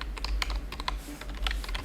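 Rapid typing on a computer keyboard, a quick irregular run of crisp key clicks close to the listener, heard alone without talk.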